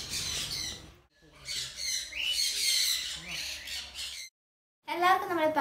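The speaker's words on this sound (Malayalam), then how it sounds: "പിന്നെ ചെറിയ ചെറിയ പക്ഷികളെല്ലാം ഉണ്ട്" Small birds squawk in a large aviary at Pallikunnu, Kannur, with loud, busy, overlapping calls nearby. A short silent break comes before a fresh burst of sharp squawks.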